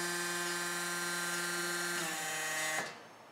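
Vitella SQ 2T SA 10/20 hydraulic 20-part dough divider pressing, a steady electric motor whine with high tonal hum that shifts near the end, then cuts off abruptly, leaving faint residual noise.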